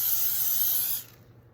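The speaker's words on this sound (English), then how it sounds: "I always give it a little quick spray." A short, steady burst of cooking oil spray hisses over chicken pieces set out for the air fryer, close and fairly loud for about a second before cutting off to near silence.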